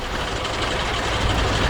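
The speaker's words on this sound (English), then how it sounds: "And with that, Bear pulled his train along the rails." A diesel locomotive hauling a train of fuel tankers gives off a loud, steady rumble of engine and rolling noise that stays continuous and close throughout.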